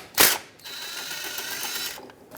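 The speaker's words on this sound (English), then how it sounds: "From the old caliper, remove the banjo bolt." A ratchet on an old brake caliper from a 2012-2018 Nissan Altima loosens the banjo bolt: one sharp metallic clack, then a continuous rapid clicking of the pawl for about a second and a half, close and clear.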